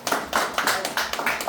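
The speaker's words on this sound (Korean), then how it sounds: "여러분 박수 한번 쳐주시고." Audience clapping at a year-end concert in a steady, rhythmic beat, with crisp claps landing together at a regular pace, close and fairly loud.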